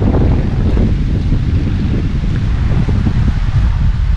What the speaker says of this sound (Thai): ทุกคนฟังเสียงลมนะครับลมแรงมากเลยครับหมายนี้